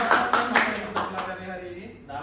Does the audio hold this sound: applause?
yes